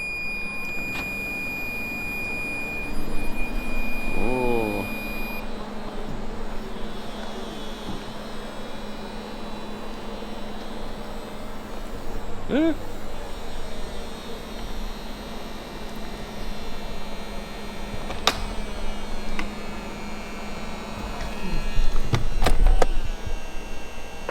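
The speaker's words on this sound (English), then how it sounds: "let's operate the convertible top just to show you that it's working fine" The electric convertible top of a 2005 Ferrari F430 Spider operating, a steady motor whine and hum with a few beeps early on and mechanical clunks as the roof moves, close and continuous, no talking.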